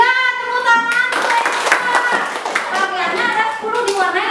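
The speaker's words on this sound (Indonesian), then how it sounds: "Iya, tepuk tangan." Pupils in a classroom clap their hands together in a brisk, dense burst of applause that runs throughout, close and fairly loud, with children's voices mixed in over the clapping.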